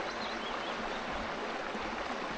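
A small, surprisingly deep stream flows steadily near a remote waterfall, a constant close bubbling and rushing of water with no voices.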